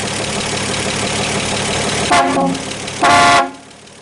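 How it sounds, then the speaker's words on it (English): A 1939 Chevrolet Master 85 barn-find engine rumbles, then two loud, blaring horn blasts ring out, the second longer, close and harsh before the sound cuts off. "the horns are working, and they are stupid loud"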